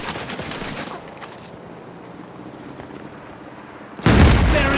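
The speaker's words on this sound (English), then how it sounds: "Check if this cannon's working right now." In the video game Land of War, gunfire crackles before a quieter stretch, then a cannon fires at a tank with a loud, sudden boom near the end.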